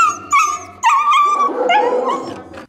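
Dogs whimpering and yipping, with a few sharp barks and whines, close and fairly loud, during stray dog catching in a Russian city.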